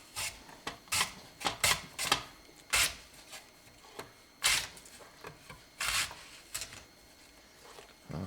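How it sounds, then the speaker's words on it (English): Potatoes are pushed across a mandoline set to a wide stick cut, giving a series of sharp, close slicing strokes at an uneven rhythm with quiet gaps between them. "Starting with the mandolin. I've got it open to a wide stick cut"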